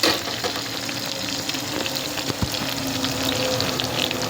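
Small onions sauté in hot oil for a Nethili meen kulambu, an anchovy fish curry, producing a continuous, even frying hiss close by with faint stirring touches.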